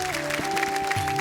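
A studio audience on a Marathi TV show gives a brief burst of clapping over steady background music tones, lasting only about a second.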